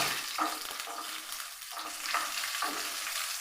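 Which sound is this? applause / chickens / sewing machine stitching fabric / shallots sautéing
shallots sautéing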